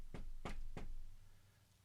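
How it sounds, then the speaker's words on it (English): Three firm knocks strike a street door in a Halloween audio drama, evenly spaced and close, followed by a short fading resonance and quiet. "there came a knocking at the street door"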